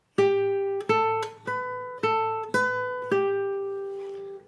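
Guitar picking a short melody over a held barre chord, six bright, close plucked notes each ringing out with rich overtones before the last one slowly fades, played alone.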